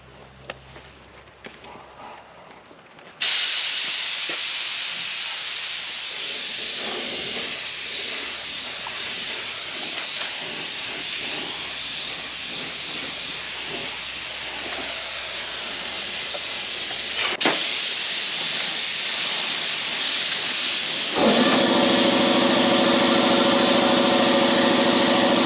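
Spray gun laying a coat of paint on a 1974 HJ GTS Monaro, a loud continuous airy hiss that starts abruptly after a quiet moment, holds steady and grows stronger near the end.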